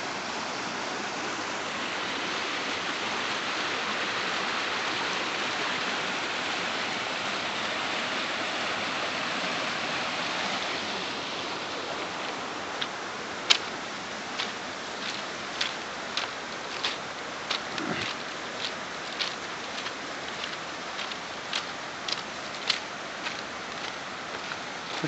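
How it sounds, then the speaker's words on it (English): A clear stream of water runs past railway tracks as a steady broadband rush, then fades lower while regular faint ticking clicks repeat through the second half. "That's a lovely clear stream of water running past these railway tracks."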